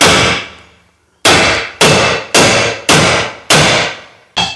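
Hammer blows on a chisel against the wheel bearing of a 2013 Nissan Titan ring out loud and metallic, six heavy strikes in a steady rhythm, each with a long clanging decay.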